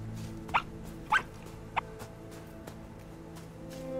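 In the video game RiME, a dog gives three short, high-pitched barks spaced about half a second apart, moderately near, over a quiet ambient hum.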